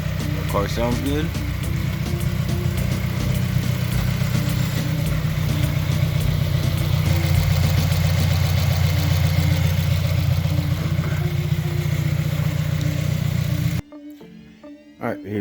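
A Subaru WRX with a newly installed Cobb blow-off valve idles with a steady, continuous low engine rumble close by, running evenly until it cuts off abruptly near the end.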